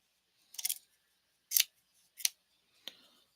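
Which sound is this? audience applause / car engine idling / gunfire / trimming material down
trimming material down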